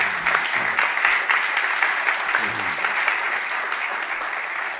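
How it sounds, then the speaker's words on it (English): Audience applause for a student called up to be honored at a Clark County event, a full crackling round of clapping that holds steady and thins slightly toward the end. "y'all give him a round of applause"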